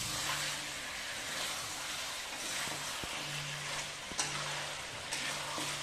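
Chicken curry masala with turmeric roasts in a pan, giving a steady, dense sizzle and frying hiss throughout, close by, with a few faint scraping knocks of stirring.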